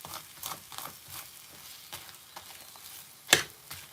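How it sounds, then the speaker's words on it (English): A chapati frying in a pan gives a quiet, faint sizzle with soft scraping pats, and one sharp louder clink near the end. "Let it just fry for 1 minute or half a minute."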